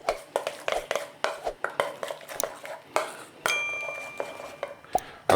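A utensil stirs sauce in a metal pan with a run of quick, close clinks and scrapes, some of them ringing. Nobody talks.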